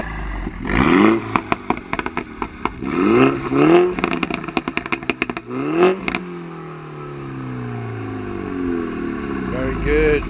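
A MINI F56 John Cooper Works engine revs hard several times in sport mode, its exhaust crackling and popping sharply between each surge, then settling to a low idle.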